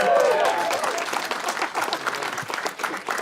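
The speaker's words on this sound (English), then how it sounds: "Big round of applause, please." A live studio audience at a football grand final show gives a short burst of applause, dense clapping that fades slightly, with a voice briefly over the start.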